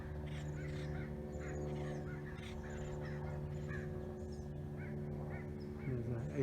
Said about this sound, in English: You can also hear an American crow calling in the background.